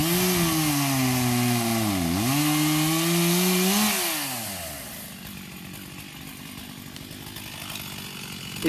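Chainsaw with a well-kept chain cutting through a firewood log, a loud close engine whine that dips and rises under load for about four seconds, then eases into a lower, rougher idle for the rest.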